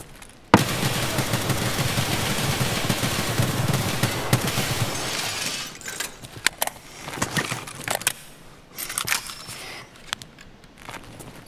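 Sustained rapid M1A rifle fire in Escape from Tarkov, a dense loud burst of shots for several seconds, then scattered single cracks and distant pops with quieter gaps.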